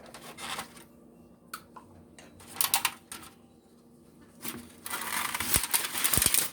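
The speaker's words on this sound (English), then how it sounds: "Sorry about that noise. It's that plastic." Plastic packaging around manicotti pasta shells crinkles and rustles in a home kitchen in irregular bursts, sparse at first and then a louder, denser stretch of crackling toward the end, with no voices.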